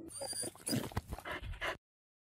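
A dog whimpers and squeals in a few short, high, whiny bursts, fairly close, before falling silent.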